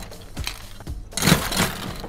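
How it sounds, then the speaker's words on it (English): A pineapple and lime cocktail with ice is shaken hard in a cocktail shaker, giving a loud, close, rattling wash of ice against metal for about two seconds. "Give it a good shake."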